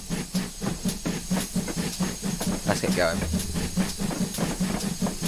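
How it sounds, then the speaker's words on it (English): Steam locomotive on the Falmouth branch in Train Simulator 2022, a steady rhythmic chuffing with hissing steam and a brief whistle-like sweep midway, running under a man's speech. "Gotta love a good old steam train."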